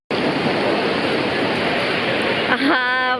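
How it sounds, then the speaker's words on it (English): Sea waves wash onto a pebbly beach on the Amalfi Coast, a continuous close rush of surf and rolling water. The rush briefly dips and then returns near the end. "the sound of the waves, beautiful."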